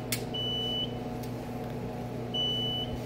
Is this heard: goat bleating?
no